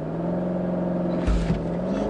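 A 530 bhp 2019 BMW 750Li xDrive launches hard from a standstill in a 0-60 run, heard from inside as a steady loud engine drone that surges and thumps partway through as it pulls away.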